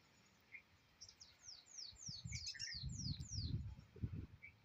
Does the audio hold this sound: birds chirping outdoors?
yes